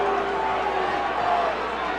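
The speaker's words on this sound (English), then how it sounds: "And you can hear the crowd again" Steady, dense murmur and roar of a college football stadium crowd at an FCS playoff game between Incarnate Word and Sam Houston, a continuous wash of distant voices with no breaks.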